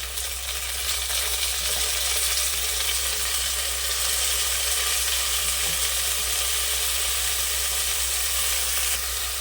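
Chopped tomatoes frying in a pan for mushroom biryani, a loud steady sizzle that runs unbroken throughout, with occasional faint clinks and stirring.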